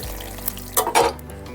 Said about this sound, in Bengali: তেজপাতাটা একটু ভাজা ভাজা করে নেবো